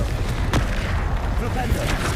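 The Confringo explosive spell is cast in the video game Hogwarts Legacy, producing a fiery blast with a sharp burst of booming impact that rumbles amid continuous game noise.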